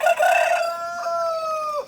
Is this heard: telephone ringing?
no